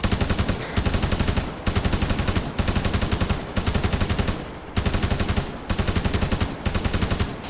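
Sustained automatic gunfire in a military video game, loud rapid bursts about half a second to a second long, repeated roughly every second with brief gaps between them.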